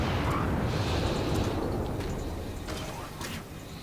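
Heavy naval gunfire from warships in World of Warships, a dense continuous rumble of booming salvos and blasts that stays loud throughout, fading slightly toward the end.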